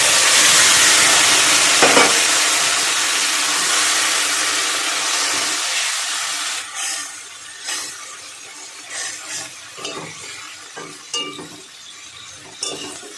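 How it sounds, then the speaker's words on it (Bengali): Loud hissing sizzle from a hot frying pan as water spinach broth is poured in over fish, settling into quieter bubbling with occasional clinks of a utensil. "এই পর্যায়ে আমি যে কলমি শাকের ঝোলটা রেখেছিলাম সেটা আমি দিয়ে দেবো।"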